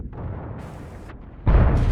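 A low engine rumble gives way to a sudden, heavy cannon blast from an HWK 12 tank that booms loudly in a video game, on the Malinovka map.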